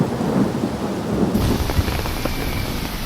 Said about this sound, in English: A heavy storm hit.